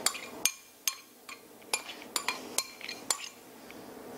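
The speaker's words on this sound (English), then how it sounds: "first I'm going to stir this up a little bit more and then slowly put it in" A utensil clinks and taps against a bowl as salmon tartare is stirred, giving a series of sharp, irregular knocks roughly every half second, close by and fairly quiet, with no speech.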